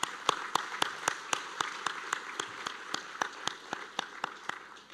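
Sparse, evenly spaced handclaps ring out over a quiet room at a college academic award ceremony, a small scattering of applause from the audience rather than a full ovation, with no talking.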